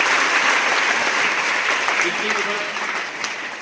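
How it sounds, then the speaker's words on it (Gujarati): An audience claps loudly and steadily at a Gujarat school ceremony honouring former students selected for the police, a dense sustained applause that fades slightly toward the end. "જોરદાર તાળીઓ પાડીશું"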